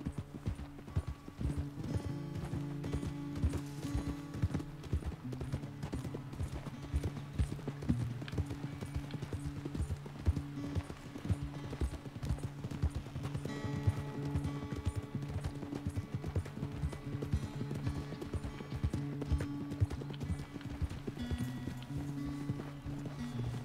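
Horse hooves clip-clop steadily in the video game Red Dead Redemption 2, a brisk, even rhythm of close hoofbeats that runs throughout beneath a low, sustained musical drone.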